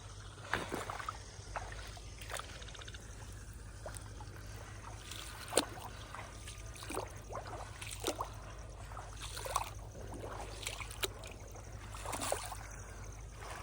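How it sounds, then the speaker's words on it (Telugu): Old water draining out of a young rice paddy into a field drain, a faint steady trickle with soft splashy bursts, outdoors and continuous. "పాత వాటర్ అన్నీ ఇలా వెళ్ళిపోతున్నాయి డ్రైన్లో."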